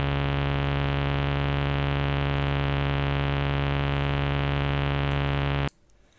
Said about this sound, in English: I started with recording a 12-volt motor at 3-volt as operating speed